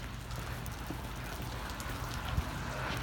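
Steady rain falls at night in Big Bear Lake, California, on a cold March evening, a soft even patter and hiss with a few louder drips, quiet and constant with no voices.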